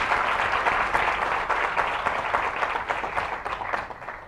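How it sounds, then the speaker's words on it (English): An audience at a climate action summit in Delhi bursts into applause, dense clapping that stays loud for the whole stretch and tapers slightly toward the end, with no speech over it. "you should clap for her"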